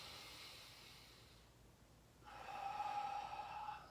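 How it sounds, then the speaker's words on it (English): A deep breath drawn in through the nose, a soft airy hiss that swells over about a second and a half, quiet and close with no talking. "And now if I take a deep breath in"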